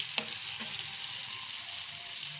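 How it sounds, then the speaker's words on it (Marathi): A stuffed snack fries in a generous amount of oil with no water added, giving a steady, close, even sizzle throughout, with a couple of soft clicks near the start. "त्यामुळे थोडंसं तेल जास्तच लागणार आहे ते तळून घेण्यासाठी"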